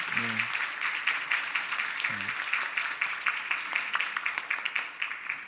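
A church congregation at a Sunday service claps steadily in welcome, dense, even applause filling the room, with a brief low voice sounding twice near the start.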